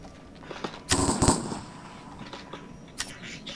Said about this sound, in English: Some guy is shooting me from the other edge of the map.